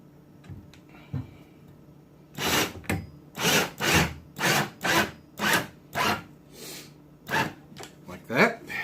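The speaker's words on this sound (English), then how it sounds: "You need to tack the outer screws in first." Screws are driven into a wooden DIY server rack in a run of about ten rhythmic, scraping grinds, each lasting under a second, close and moderately loud after a quiet start.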